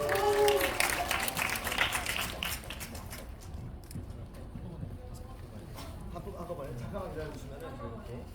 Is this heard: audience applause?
yes